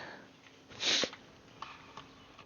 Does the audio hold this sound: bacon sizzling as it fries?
no